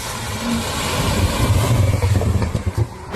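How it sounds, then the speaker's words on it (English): A turbocharged Mazda NC Miata with a Flyin' Miata turbo kit lets off boost, giving a close, rumbling engine note broken by a rapid fluttering chatter from the turbo that fades toward the end. "This is the turbo noises"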